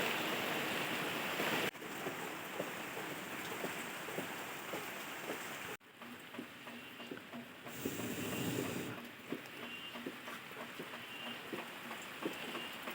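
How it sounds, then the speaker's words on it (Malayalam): Rain begins falling outdoors as a steady broadband hiss that stays faint and continuous, with slight shifts in intensity and a couple of abrupt breaks in the wash. "ഇപ്പം മഴയും പെയ്യാൻ തുടങ്ങി."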